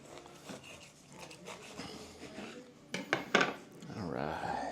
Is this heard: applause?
no